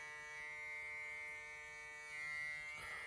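An electric trimmer cleaning up a neckline during a men's haircut: a steady, faint buzzing hum with a rich tonal whine, running continuously for a few seconds and swelling slightly near the end, with no talk.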